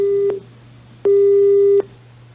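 A telephone call fails to connect, giving a busy signal: two clean, loud electronic tones, one short and one longer, separated by a brief gap over faint line hum.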